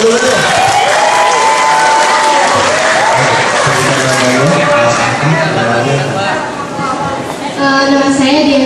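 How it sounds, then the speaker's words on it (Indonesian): Loud audience applause and cheering at a university public lecture, a dense roar of clapping with shouting voices and crowd chatter layered over it throughout. "Tepuk tangan dong buat teman-teman."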